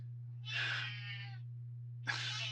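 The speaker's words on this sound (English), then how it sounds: "Can you hear my kitty?" A pet cat gives two close, breathy meows, the first drawn out and the second cut short, over a steady low electrical hum.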